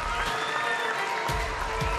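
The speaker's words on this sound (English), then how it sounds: "The crowd is screaming." A crowd at a male freestyle vaulting final at the Tryon 2018 World Equestrian Games screams and applauds in a dense, continuous roar, loud and sustained, with a commentator's voice underneath.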